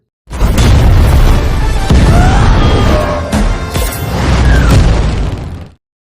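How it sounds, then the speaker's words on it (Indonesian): A loud, sustained explosive roar from a Pakistani fighter jet exploding in the sky, with booming bursts and crackling debris, rumbling heavily for several seconds before cutting off. "jet tempur Pakistan meledak di langit itu"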